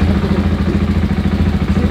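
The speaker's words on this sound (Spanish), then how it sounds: "Hace un huevo que no enciendo la moto. A ver si enciende." A motorcycle engine running up close, a steady throbbing low idle with a rhythmic mechanical clatter and no talk over it.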